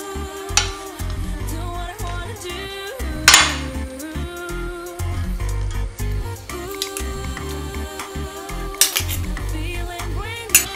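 Rice is spooned into a pot while layering fish and shrimp biryani, giving irregular metallic clinks and scrapes of a spoon against the pot, some sharp and close, amid a low background hum.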